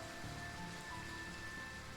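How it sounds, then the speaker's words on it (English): Rain sound effect from the game Girls' Frontline, a steady even patter of rainfall with a faint thin tone running through it, continuous and soft without voices. "The rain sound kept carrying outside of Ouroboros' cutscene"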